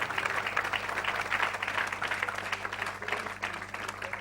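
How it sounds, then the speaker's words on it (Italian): An audience applauds at a live theatre show at Teatro In Portico in Rome, a continuous, moderately loud wash of many hands clapping with a faint low hum underneath. "Io vorrei intanto facessimo un grande applauso a loro che stanno svolgendo"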